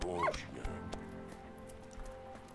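A dog barks and whimpers in the World War I game Valiant Hearts, a brief yelp near the start followed by faint whines beneath music and ambient game sound.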